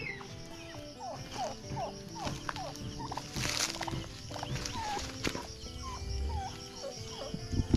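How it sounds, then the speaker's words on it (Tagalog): A turkey in a grassy backyard gobbling repeatedly in short rippling bursts, with other fowl clucking nearby and faint footsteps, fairly quiet and outdoors. "Dito pala yung pabo natin."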